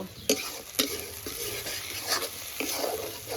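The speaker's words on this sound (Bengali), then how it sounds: "মশলাটা এবার ভালো করে কষিয়ে নেব" Ground spice paste frying in oil and being stirred, with a close, steady crackling sizzle and several distinct scraping strokes of a spatula against the pan over a few seconds, without speech.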